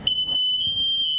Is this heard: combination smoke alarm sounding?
yes